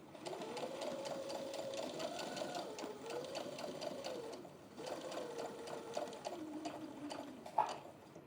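A sewing machine sews seams on a hot cross bun pin cushion in two long runs with a short pause between them. The motor whirs steadily and rises and falls in pitch, ending with a small click.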